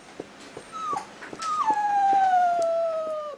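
Sick dog that had been unresponsive for days whimpering and whining, rising into a long drawn-out moaning howl after a few short soft yelps, close and clear with no talk.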